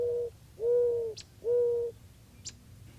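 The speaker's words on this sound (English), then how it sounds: "Here's the classic wild dove of North America." Mourning dove, the classic wild dove of North America, giving three soft, mellow coos in a steady rhythm, each a low sustained note, with two brief higher chirps of another bird in between over quiet outdoor background.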